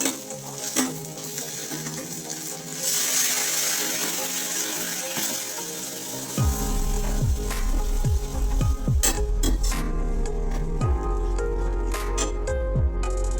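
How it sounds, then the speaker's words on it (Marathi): Peanut, millet and potato mixture fries with a steady sizzle, then water is poured into the hot pan partway through, setting off a louder, rougher hiss with bubbling and scraping that continues to the end, all without speech. "आता आपण याच्यात घालणार आहोत पाणी"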